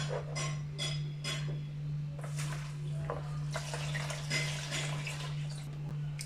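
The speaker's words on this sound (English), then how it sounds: "So after the yeast, now we follow in with our milk." Milk is poured into a bowl of sugar and dry yeast, giving a faint liquid splashing and trickling over a steady low electrical hum, with no voices.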